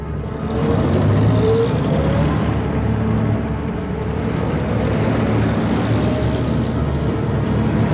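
Old car engines in the soundtrack of the Indonesian film Pengkhianatan G30S/PKI give off a loud, steady motor rumble that holds throughout with only slight swells.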